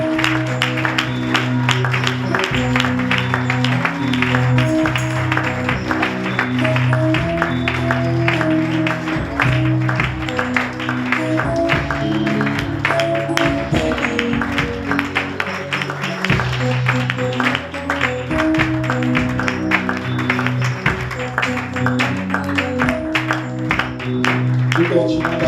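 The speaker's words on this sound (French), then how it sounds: "Nous l'acclamons très fort." A church congregation claps steadily and acclaims God in a sustained, dense stretch of rhythmic applause, mixed with music and voices that carry on without a break.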